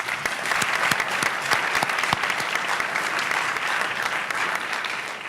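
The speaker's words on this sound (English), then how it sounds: "Let us give them a round of applause." A crowd claps steadily in sustained applause, a dense patter of many hands that holds at an even level throughout.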